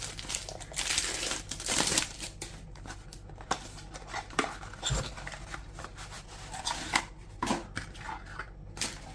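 Faberlic Aura women's perfume packaging is unboxed, with close crinkling, rustling and tearing of the wrapping in irregular bursts and soft handling clicks throughout.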